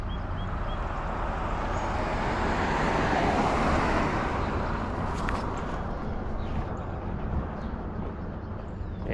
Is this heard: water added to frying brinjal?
no